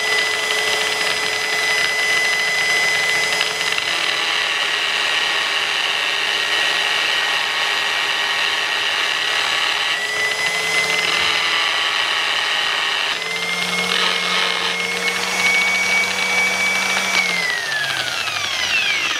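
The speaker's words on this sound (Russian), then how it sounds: "Вот таким образом полируем поршеньки." Rear brake caliper pistons from a Land Rover Defender are polished with a rotary power tool. The motor whines steadily and continuously, with the pitch shifting up and down a few times, and no voices are heard.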